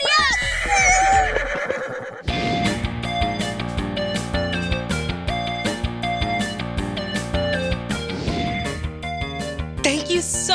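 A horse gives a loud, high whinny at the start of a lively children's show scene. Bouncy music follows and carries on throughout, with faint hoof clops under it.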